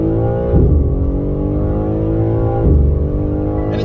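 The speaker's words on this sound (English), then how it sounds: "It says preparing launch control. The boost is holding at 20, letting go." A 2022 BMW M3 Competition M xDrive accelerating hard from a launch-control start, its engine note climbing steeply in pitch, dropping at each automatic upshift and rising again, loud and close.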